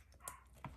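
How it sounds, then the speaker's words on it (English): Meg the dog gives a couple of short, faint barks from somewhere indoors, quick and spaced apart against a quiet room. "Meg is barking"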